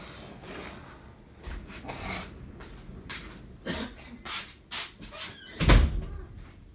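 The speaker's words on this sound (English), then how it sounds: "Let me close my door." A bedroom door being shut at home, heard as a few soft knocks and rustles before one firm, close thud near the end, with no speech.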